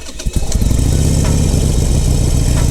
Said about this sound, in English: We just started the motorcycle.